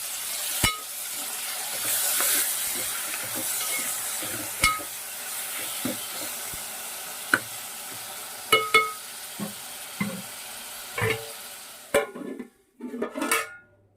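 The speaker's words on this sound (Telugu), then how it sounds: "ఇప్పుడు దీంట్లో కట్ చేసుకున్న టమాటాలు వేసేసుకోవాలి." Onions and chopped tomatoes frying in a pan for a mango and small fish curry, a steady sizzle under scattered clinks and scrapes of a stirring utensil against the pan, close and without talk.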